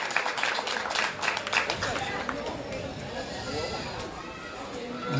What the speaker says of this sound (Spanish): El aplauso fuerte para nuestro hermano José Emanueli